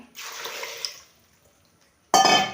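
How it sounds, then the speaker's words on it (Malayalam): A short splash of water pouring into a pressure cooker holding cassava, then a pause, then a louder burst of running water at the end. "വെള്ളം ഒഴിച്ച് കൊടുക്കാവേ"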